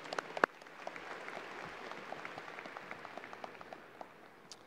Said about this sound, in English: Let's give our platform of guests a big round of applause